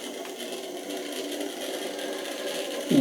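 A Hornby R3528 Class A1X 'Terrier' 0-6-0T model locomotive's small electric motor runs with a steady, slightly gritty whir that lacks lubrication, holding at an even level for about three seconds before a brief louder bump at the end.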